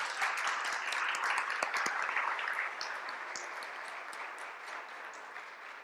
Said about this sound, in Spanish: Vamos a darle un fuerte aplauso a Orlando.